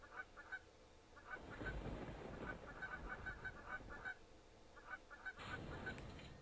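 Repeated goose honks sound in a casual game, short nasal calls in quick clusters over busy game noise, fairly faint.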